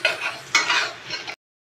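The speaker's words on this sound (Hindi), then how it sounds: "हम इन सबको अच्छे से मिक्स कर देंगे।" A spoon scrapes and stirs turmeric, chili, amchur, salt and coriander powder in a pan, giving three gritty sweeping strokes over a light sizzle before stopping abruptly.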